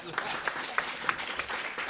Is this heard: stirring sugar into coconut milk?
no